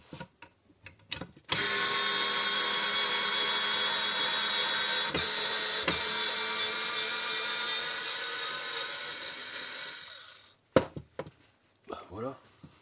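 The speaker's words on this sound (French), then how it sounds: "Je vais vous dévisser la vis, on va voir ce que ça donne." A Hychika battery-powered electric screwdriver unscrews a screw, whirring in one steady high whine for about nine seconds that slowly fades as it winds down, with brief handling clicks and a few words of talk before and after.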